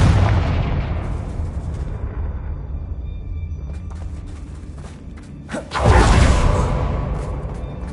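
A Confringo blasting spell goes off in Hogwarts Legacy, an opening boom that decays into rumble, then a sharp second whooshing blast near the end, loud and close with no talk.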